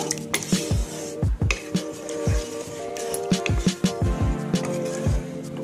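A spoon stirs water into mustard-paste spice masala for a bhola fish curry in a metal pot, giving a series of close, ringing scrapes and knocks, with faint sizzling underneath.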